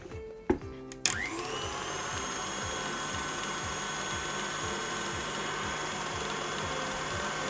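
An electric mixer whirring through cream for a keto tiramisu cake, starting up after a couple of brief clicks and then running at a steady, even drone with a faint rhythmic pulse.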